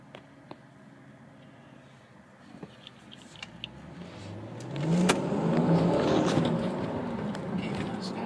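A 2018 car on a test drive in San Francisco, its engine rising from a low hum to a louder, building acceleration around the midpoint, then holding a steady strong drone close by.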